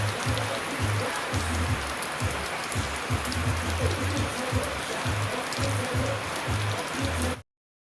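Steady rain pattering down at an outdoor cookout for a Jamaican birthday celebration, a dense continuous hiss with low thumping drops, then cutting off abruptly near the end.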